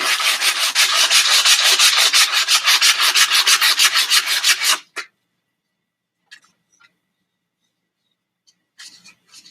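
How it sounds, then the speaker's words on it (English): Rapid, steady back-and-forth rasping of sandpaper on a wooden stick being shaped into a wand for several seconds, then it stops, leaving a few faint scuffs and taps. "this first sand is going to get the wand portion of this really smooth"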